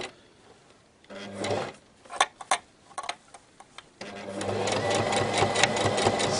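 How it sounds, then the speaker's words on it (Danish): A sewing machine stitching a seam on a round-cut girl's skirt with a ribbed waistband, running in short bursts with stop-start clicks, then a longer steady whirring run, close and clear with no talking. "Og vi syr igen med en centimeter sømmerum."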